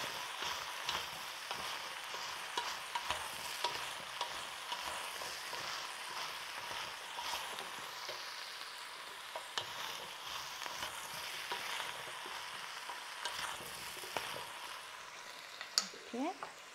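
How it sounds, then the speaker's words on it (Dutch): Chicken stew in a pot with chicken stock, a soft steady sizzle under repeated light scraping stirs, quiet and close, with brief faint clinks near the end. "Eens even roeren."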